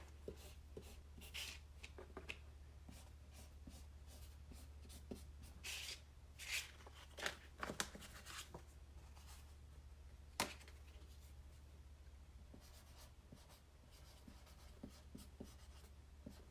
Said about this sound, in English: on the back, I'm going to write what it is